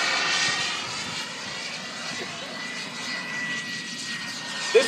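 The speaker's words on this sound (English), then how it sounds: "you are going to see them flex and move a little bit as he puts this airplane through its paces" A Schweizer 231 RC jet glider, a fully composite fiberglass and carbon fiber model, flies past with a steady, fairly loud jet whine that holds throughout.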